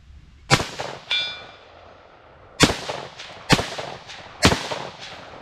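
A BCL Siberian SRV2 rifle fires several sharp, loud shots with metallic clangs in an irregular sequence until the magazine runs dry, each report followed by a short decaying echo.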